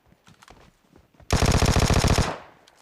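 A loud automatic rifle burst rings out in a PUBG Mobile Lite match: about a second of rapid, evenly spaced shots fires close by. Quieter single shots and game sounds come before and after it.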